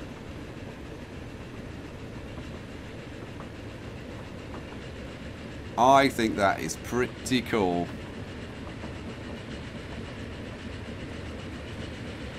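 Trains running in the railway-building video game Transport Fever, with a steady rolling rumble throughout and a brief stretch of someone talking over it.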